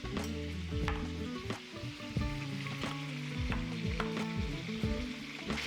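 Diced bacon sizzles and crackles steadily in a stainless steel frying pan with algae oil, a continuous close frying hiss with occasional stirring clicks and a tonal background beneath it.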